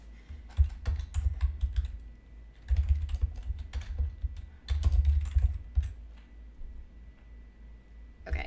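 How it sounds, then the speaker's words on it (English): Bursts of typing on a computer keyboard, with rapid clattering keystrokes in several runs broken by short pauses, close and fairly clear with no talk over it. "can you type in Hamilton County?"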